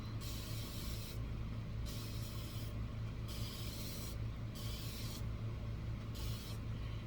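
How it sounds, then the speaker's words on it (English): A refilled Febreze spray bottle is pumped repeatedly over a farmhouse tray craft project, giving a series of soft hissing sprays in an even rhythm with short pauses between them, faint and close, with no talk. "Now I'm going to get to spray it."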